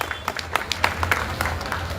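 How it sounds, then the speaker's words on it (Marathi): A crowd at a political rally breaks into brief, scattered clapping, a quick run of sharp hand claps over a low background murmur. "त्याच्यामुळे जोरदार टाळ्या साजिदबाईच्या स्वाभिमानाला गेले पाहिजे."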